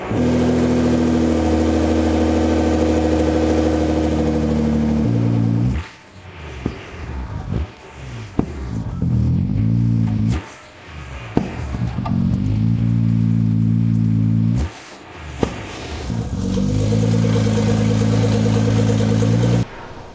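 A Nissan GT-R with accident damage revs repeatedly, loud and close, each steady high-rpm hold dropping sharply off throttle with turbo spool whine and brief sharp pops between pulls.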